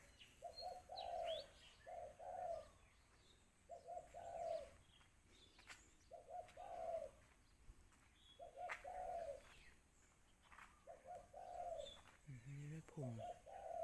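Pigeons cooing near a house in the morning, soft repeated two-part coos at a steady rhythm, with faint chirps from other birds and a brief fluttery call near the end; a quiet voice speaks once in the background.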